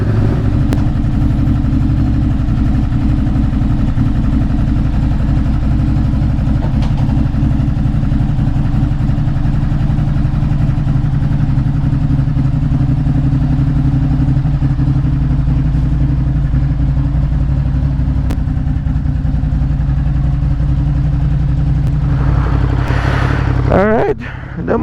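A Ducati Monster 937 Plus motorcycle, still fitted with its exhaust baffles, warms up at a steady idle, a loud and close continuous engine rumble with a brief disturbance near the end.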